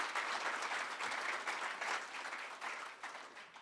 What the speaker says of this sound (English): So I think the team deserve a warm round of applause